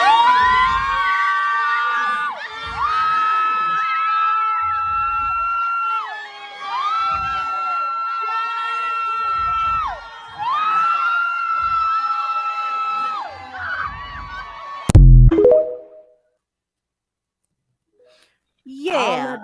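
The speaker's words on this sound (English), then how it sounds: "All that damn screaming." Loud crowd screaming and cheering, with high shrieks and whoops rising and falling in repeated waves, a sharp burst near the end, then silence before the cheering briefly starts again.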